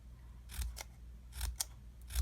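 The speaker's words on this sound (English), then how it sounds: "we're going to just cut with a pair of scissors up to that line" Scissors snip into a paper milk carton, a few close, crisp cuts in short bursts with quiet pauses between, no voices.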